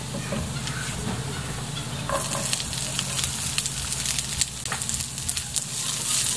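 Onions go into a pan of browned garlic, frying with a steady, close sizzle that grows busier and crackly after a couple of seconds, with faint stirring clatter.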